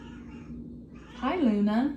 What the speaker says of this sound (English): I don't know if you can hear my cat meowing away.